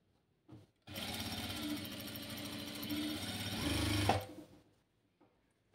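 A sewing machine stitches a seam on an A-line frock in one continuous burst of rapid, close mechanical chattering lasting about three seconds, with a few soft handling clicks before and after in an otherwise quiet room.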